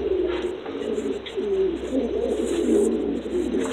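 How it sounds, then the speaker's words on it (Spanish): Pigeons cooing inside a Cuban pigeon loft, several soft, throaty coos rising and falling over a steady low background hum, close and continuous with no talking. "Trabajo mucho con las palomas de Pedro"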